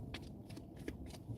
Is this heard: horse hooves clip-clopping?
no